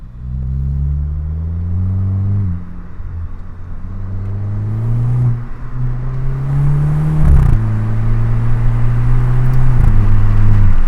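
A car cruising along a small highway, its engine a steady, loud drone that rises and shifts through a few gear-like pitch changes as it runs, with road rumble underneath and no talking.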